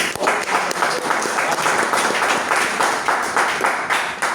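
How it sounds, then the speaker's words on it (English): An audience applauds steadily, many hands clapping in a dense, sustained patter that continues throughout. "Please give a round of applause."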